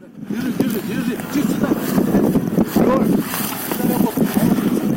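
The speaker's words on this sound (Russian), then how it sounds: "Вы видите, ветер сейчас сильный" Strong wind buffets the microphone in a steady roar, with a person talking over it about a parachute landing hampered by the wind.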